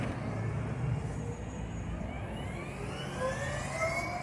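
A BMW CE 04 electric scooter passes at a distance on a test ride, its electric motor giving a steady, rising whir that climbs in pitch as it accelerates, with background road noise and no voices.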